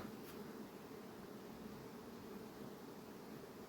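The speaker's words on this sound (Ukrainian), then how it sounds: "Ось бджоли працюють" Honeybees around their hives on an overcast day, giving a steady, low insect hum with airy rustling that runs evenly throughout with no talk.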